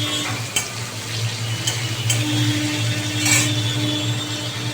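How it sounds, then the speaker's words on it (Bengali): Eggplant slices fry in hot oil with salt, giving a steady, close sizzle throughout with occasional light clinks and stirring sounds from a utensil. "নুন দিয়ে আমি বেগুনগুলোকে একটু ভালো করে ভেজে নেবো।"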